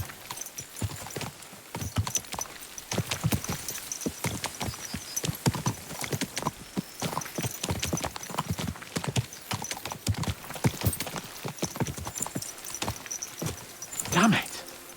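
Horses gallop in Kingdom Come: Deliverance 2, a medieval video game set in Bohemia: a rapid, continuous clatter of hooves that stays loud and close throughout, with a brief neigh near the end.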